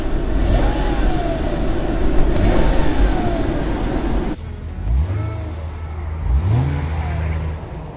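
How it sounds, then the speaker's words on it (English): A rough-sounding car engine idles loudly, then is blipped in several short, rising revs close by with no talk over it. "Let me go ahead and rev it up a little bit."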